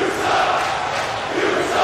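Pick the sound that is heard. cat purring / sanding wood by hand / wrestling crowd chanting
wrestling crowd chanting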